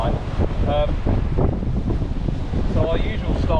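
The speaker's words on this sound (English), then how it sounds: "The wind is pretty horrific, to be honest. It's probably gusting 50 mile an hour" Strong wind gusting at around 50 mph buffets the microphone at a seaside marina in Spain, a loud, continuous roar with surging gusts. Someone speaks intermittently over it.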